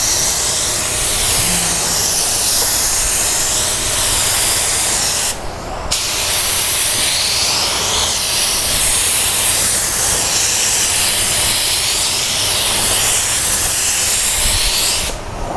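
Spray gun laying a light dust coat of automotive paint on a car fender, a loud steady hiss running almost continuously with two brief pauses between passes.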